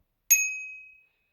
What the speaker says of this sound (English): We got a little bell.